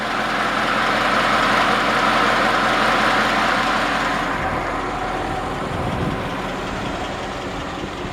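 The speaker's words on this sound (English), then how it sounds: "This is a quiet little engine, dialed in just right, got the timing on it right and everything." A 1950 Ford F5 truck with a flathead V8 idles close by, a steady, even low rumble with a faint ticking rhythm that holds throughout and eases slightly toward the end.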